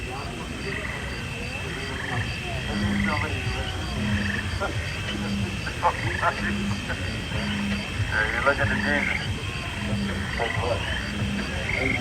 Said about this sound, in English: You can hear the cicadas and the frogs.